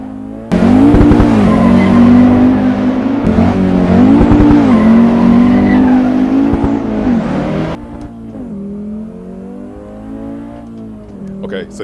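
A 1994 Audi Sport Quattro rally car accelerates hard through the gears, its loud engine climbing in pitch with clear shifts, then easing off after about eight seconds.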